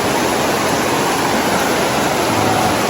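Steady rush of river water flowing at a riverside, a dense continuous broadband wash heard up close and fairly loud, with no break or change across the stretch.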